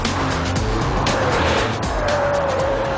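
A BMW 530i Sport sedan is driven hard on a race circuit with a sustained, loud engine roar and tire scrub. A rising whine cuts through near the end, and no voices are heard.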